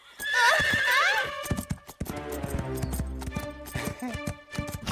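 Cartoon horse neighing loudly in a long wavering whinny, then hooves clattering in a quick gallop under a rising tangle of other sounds, all close and energetic.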